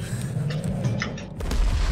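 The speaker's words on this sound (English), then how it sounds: "Cause the explosion's huge." Huge explosion in the video game Deep Rock Galactic: a deep, rumbling boom that swells near the end, loud and continuous with heavy low-end roar and no voices over it.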